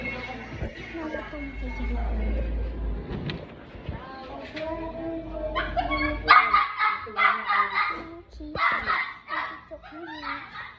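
A dog barks in repeated sharp bursts at moderate distance inside a home, the barks growing busier in the second half while people talk over and between them.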